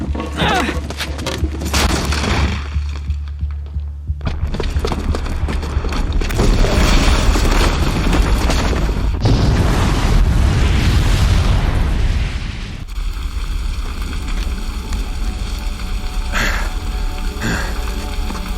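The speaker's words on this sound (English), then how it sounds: "the booby trap on the bomb downstairs is gonna get set off" A booby-trapped bomb detonates in the video game Horizon Zero Dawn, unleashing a loud, sustained barrage of booming blasts and crackling bursts that roll on for many seconds without pause.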